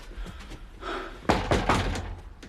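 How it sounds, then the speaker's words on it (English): Someone raps on a door, with a few firm knocks and thuds that sound close and fairly loud in a quiet room, with no talk over them. "That's a copper's knock if ever I've heard one."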